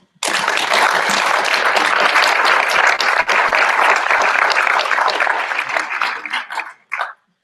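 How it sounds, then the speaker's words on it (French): A colloquium audience bursts into loud, dense applause that holds steady for about six seconds, then thins into scattered claps and fades out. "Je pense qu'on peut les applaudir."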